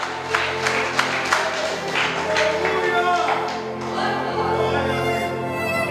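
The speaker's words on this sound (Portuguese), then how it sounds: "Aplaudam o Senhor em nome de Jesus" Church congregation clapping together during worship, a steady rhythmic patter of many hands mixed with a sustained musical backdrop and crowd noise.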